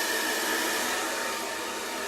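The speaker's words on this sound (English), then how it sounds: "I'm going to turn up the heat for right now to, we're going to go with high since I sprayed that heat shield in. And then I'm going to do the speed on high as well." A handheld hair dryer blows on its high heat and high speed settings, a loud, steady, close roar of rushing air that carries on without a break and with no voices over it.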